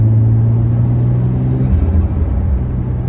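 Nissan R33 Skyline exhaust idling while not yet properly tuned, a loud, close, steady low rumble that holds smooth and even throughout.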